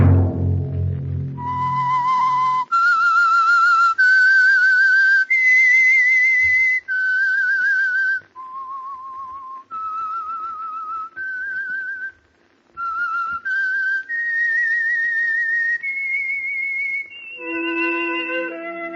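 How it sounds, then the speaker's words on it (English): A clear, steady whistled melody of sustained notes moving up and down in pitch, played alone and close. "Let that whistle be your signal"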